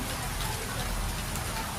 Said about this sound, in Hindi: अब इतनी मोटी मोटी बूंदे गिर रहे हैं, इतनी तगड़ी वाली बारिश हो रही है।